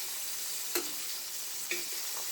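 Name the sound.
crispy-skin salmon sizzling in pan while being basted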